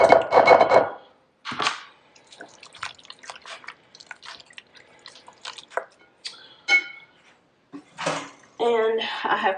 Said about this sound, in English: I'm going to mix this up really good